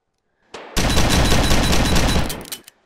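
Shotgun fire in the VR game Gun Club VR, a sustained loud burst of roughly two seconds, dense and rumbling, with a brief click before it and a quick tail after.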